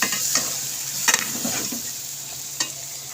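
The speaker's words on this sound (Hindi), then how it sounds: "इसको अच्छी तरीके से मिक्स अप कर लेंगे।" Bitter gourd mutton curry with lemon juice and yogurt being stirred in a pan: a soft continuous sizzle broken by a few distinct spoon scrapes and clacks against the pot, close by and without talking.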